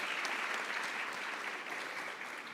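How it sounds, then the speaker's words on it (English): An audience applauds a conference panel, a fairly quiet, even patter of many hands clapping that tapers gently toward the end. "a round of applause for our panel"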